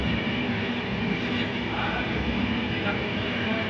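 A passenger train on the way to Shirdi runs along the tracks, giving a loud, steady rumble heard from inside the carriage without clear wheel clicks.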